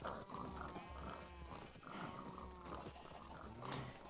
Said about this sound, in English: Sheep, cows, pigs.